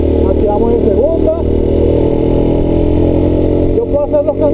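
A motorcycle climbs a hill in second gear with a steady, close engine drone and slight revving, while someone talks over it.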